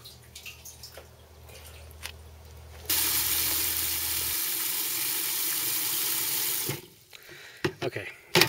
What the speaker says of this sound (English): Okay, so I put some water in the bucket here